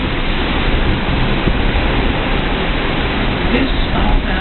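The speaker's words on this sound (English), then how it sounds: "You hear the ocean roaring." Ocean roars and wind blows hard from a cruise ship balcony aboard Explorer of the Seas, a loud, dense, continuous rushing wash with no clear breaks.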